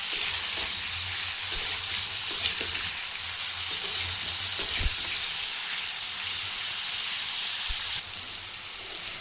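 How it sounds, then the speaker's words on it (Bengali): Potato pieces fry in hot oil in a home kitchen, a steady broadband sizzle with a few faint clinks, continuous and moderately close with no talk. "এবার আলুগুলোকে আমি ভেজে নেব।"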